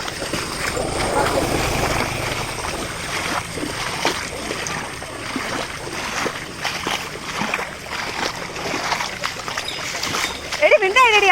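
Small country boat moving slowly along a rain-filled canal, with irregular paddle splashes and water sloshing close by, under frequent voices and some wind buffeting.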